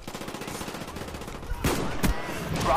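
Rapid automatic gunfire rattles in a Call of Duty Black Ops multiplayer match, a dense stream of shots with a couple of louder blasts toward the end.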